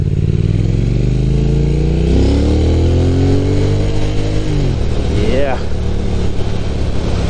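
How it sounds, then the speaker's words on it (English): A motorcycle running on a new lithium battery carries its rider along Yugawara Parkway in Japan, its engine droning loud and close, rising and falling as it revs, with wind noise throughout. "the bike feels eager to move and really responsive"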